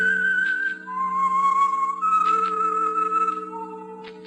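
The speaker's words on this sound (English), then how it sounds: "That whistle is your signal for the Signal Oil program, The Whistler." A whistled theme signal from an old-time radio mystery program, The Whistler: a steady, clear melodic whistle holding a few long notes in sequence over a soft orchestral backing, upfront and without speech.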